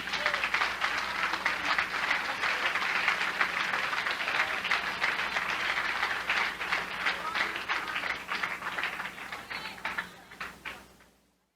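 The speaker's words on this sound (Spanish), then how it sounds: "Dale un aplauso a Cristo." A church congregation at a Spanish-language Christian service breaks into sustained, dense applause that holds steady for about ten seconds and then tapers off, with a voice faintly underneath.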